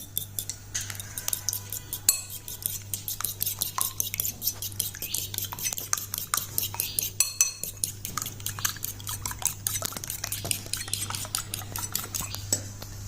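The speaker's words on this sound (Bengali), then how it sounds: "আমি ডিম নিয়েছি একটা এখন এটাকে আমি ভালো করে ফেটে নেব" A single room-temperature egg is beaten with a fork in a bowl, a fast, continuous run of light metallic clicks and taps against the bowl, close and fairly quiet, with a steady low hum underneath.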